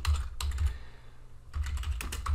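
Quick bursts of computer keyboard typing as VBA code is entered, close and clear, in two clusters separated by a short pause, with no talking.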